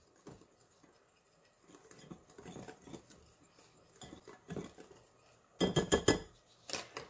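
Bath bomb ingredients are mixed in a bowl for an ice cream mold bath bomb: quiet, irregular scraping and light clinks of a utensil, growing into a louder rattling stir near the end.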